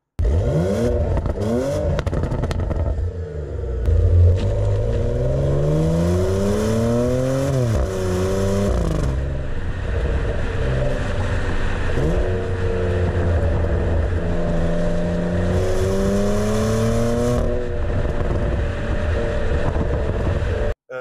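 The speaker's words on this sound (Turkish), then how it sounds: "bastığımda egzozdan inanılmaz güzel sesler geliyor" A loud engine and exhaust roar from a Porsche Macan S, rising and falling in pitch as it accelerates and shifts, sustained and close throughout.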